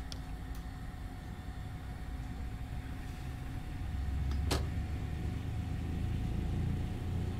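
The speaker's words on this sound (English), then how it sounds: "Oh, the sound of two piston radials." The twin piston radial engines of a DC-3 in Microsoft Flight Simulator rumble as a steady low drone that builds slightly louder midway, with a sharp click or two over the top.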